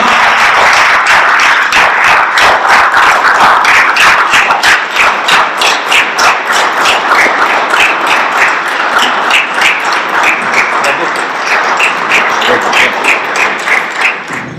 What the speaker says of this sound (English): Give them a big round of applause, guys.